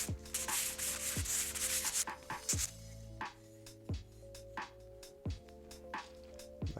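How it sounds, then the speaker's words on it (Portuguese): A wooden surfboard fin is sanded by hand with 80-grit sandpaper, a series of repeated rasping strokes in a steady back-and-forth rhythm, close and distinct, each stroke ending with a brief knock. "Lixamos do outro lado também, tiramos as marcas sempre no sentido dos veios da madeira."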